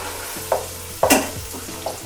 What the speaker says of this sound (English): While we're cooking the onions